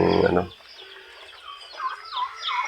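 Chickens on a farm near a brooder holding newly hatched chicks, a loud cluck at the start and then softer chirps and cheeps that keep coming.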